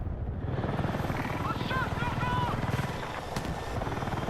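An attack helicopter in Battlefield 6 gameplay makes a steady rotor thump with a low droning hum, fairly faint. Brief whistling tones and a sharp click sound over it midway.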